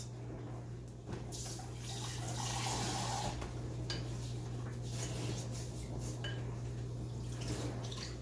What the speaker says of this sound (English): And I'm just going to give it a quick little rinse.